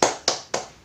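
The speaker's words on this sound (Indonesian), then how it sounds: "Tepuk semangat." Classroom clapping routine (tepuk semangat), three sharp hand claps in an even rhythm, close and crisp, each ringing briefly before the next, with no talk over them.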